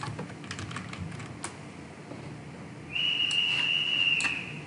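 Typing on a computer keyboard at a Windows command prompt, a short run of close, light key clicks followed by a steady high whistle-like tone joining a few more taps.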